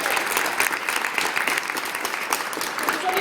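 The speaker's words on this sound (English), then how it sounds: "Let's give them a big round of applause and make them feel welcome in this space." Warm audience applause at a university teach-in welcoming Occupy Regina occupiers, a moderately loud, even patter of many hands clapping without pause.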